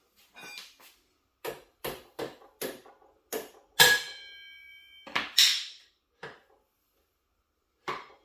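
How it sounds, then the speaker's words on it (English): Carbon fork sleeves on a KTM 390 Duke are tapped into place, giving a dozen sharp, close knocks spaced through quiet gaps, a couple of them ringing out with a brief metallic clang. "Just give it a tap."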